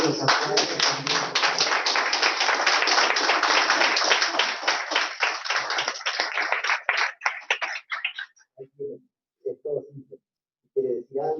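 Audience applause at a 50th anniversary celebration: dense, loud clapping for about eight seconds that thins into scattered claps, followed by a voice speaking.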